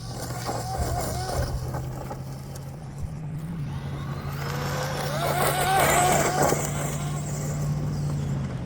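Traxxas Maxx Slash RC truck driving off-road, its electric motor whining and rising in pitch as it speeds past, with a steady hum and crunching terrain underneath and a voice speaking briefly.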